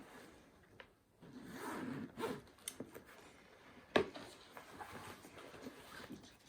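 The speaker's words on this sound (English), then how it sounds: "Did all the zips work? Come on, get zipping." A zipper on a golf bag is worked in several short zips and pulls, close and fairly quiet, with rustling and handling scrapes between strokes and no talk.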